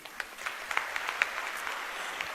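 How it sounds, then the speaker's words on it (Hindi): Students applauding at a Hindi-language school event, faint scattered claps from a distant group over a quiet room, with a few sharper single claps standing out. "स्टूडेंट्स को तो तालियां बजानी चाहिए।"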